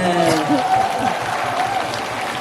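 Festival crowd applauding at a jujube festival, broad clapping layered beneath a host's amplified voice and a sustained musical tone for a couple of seconds.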